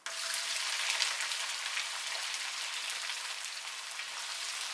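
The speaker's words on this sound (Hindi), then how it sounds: "इसको 1 मिनट के लिए फ्राई करेंगे। अब इसमें ऐड करेंगे स्लाइस प्याज" Whole garam masala spices and sliced onions fry in hot oil, giving a steady, dense crackling sizzle that runs evenly throughout with no voices.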